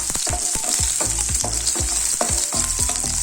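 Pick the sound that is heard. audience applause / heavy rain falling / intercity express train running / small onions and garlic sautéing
small onions and garlic sautéing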